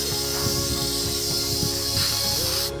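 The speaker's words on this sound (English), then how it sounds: "We would spray glue it right here." Spray glue hisses from a can onto the torn upholstery of a 2002 Chevy Silverado 1500 driver seat, a close, steady hiss that cuts off abruptly at the end.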